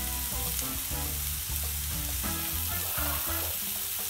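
Pumpkin pieces fry over medium heat and get stirred in a pan, a continuous bright sizzle with occasional scraping, while tonal background music plays underneath.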